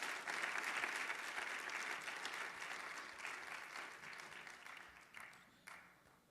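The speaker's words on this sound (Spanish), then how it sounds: "¿Cuánto le dan un fuerte aplauso al Señor," A church congregation at a Christian sermon breaks into sustained applause, a dense roar of clapping hands that starts loud and slowly tapers, with a few final scattered claps.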